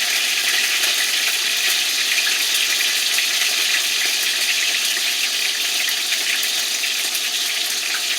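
Oxtail pieces hitting a hot frying pan, a steady broadband sizzle that holds at an even, fairly loud level throughout with no break, no speech over it.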